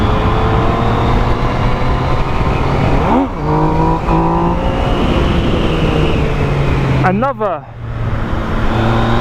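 A 2017 Yamaha MT-09 motorcycle engine revs hard and loud, with sharp rising-and-falling throttle blips twice, and a voice speaks briefly over the engine.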